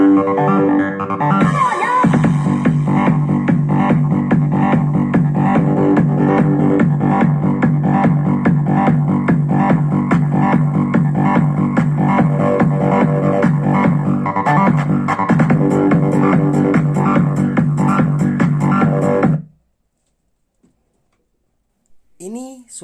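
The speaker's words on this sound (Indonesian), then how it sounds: "Ini suara dari speaker LG 3 in." Test music plays continuously through a 3-inch LG 4 ohm 15 watt speaker, dense and steady for about twenty seconds before cutting off into near silence.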